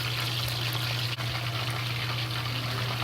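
Pork pieces for sweet and sour pork frying in hot oil in a pot, a steady dense sizzle and hiss, close and continuous with no pauses.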